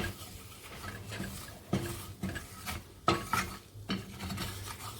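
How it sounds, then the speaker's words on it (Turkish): Flour is roasted in oil in a pan holding meatball drippings, with a utensil scraping and stirring in quiet, uneven strokes and a few sharper scrapes against the pan. "Şimdi un, unu kavuruyorum yağla beraber."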